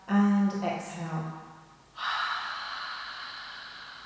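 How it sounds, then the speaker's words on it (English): Open-mouthed exhalation during an all-level yoga class, a steady breathy rush of air lasting about two seconds after an instructor's voice, fairly close and moderately loud. "So breathing out with the mouth open, drawing the elbows together"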